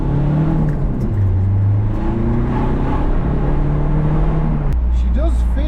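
A Peugeot RCZ HDi diesel engine with a homemade cold air intake hums and drones under acceleration, its tone sweeping up through gear changes, steady and fairly loud from inside the car.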